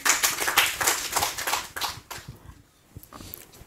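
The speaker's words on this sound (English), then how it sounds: "I will ask you a round of applause to welcome Mr." A round of applause welcoming Mr. Zerbo Lawagule Dauda to an English Club of IMB gathering: clapping from a small group rises quickly, stays dense for about two seconds, then thins to a few scattered claps.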